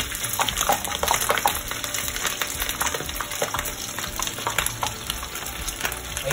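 French toast made with brioche fries in half an inch of oil, a dense, continuous crackling sizzle with small pops, steady and close throughout.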